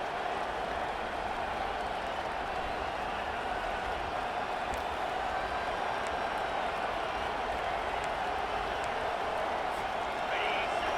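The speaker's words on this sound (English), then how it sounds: "Listen to this crowd just shaking the girders of this place, trying to help their defense." A college football stadium crowd at Ohio State versus Penn State roars in a constant, dense wall of noise, with faint whistles and shouts and no break.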